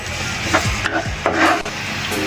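Garlic sautés in oil in a pan for preserved mustard greens, a close, steady sizzle broken by a few scraping stirs of a utensil against the pan.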